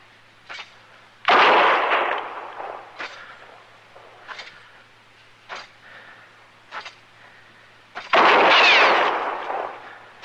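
Revolver gunshots in an old-time Western radio drama, two loud heavy blasts separated by several sharper, fainter cracks in a quiet scene.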